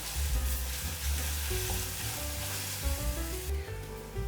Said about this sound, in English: Now we need to fry this until they turn brown.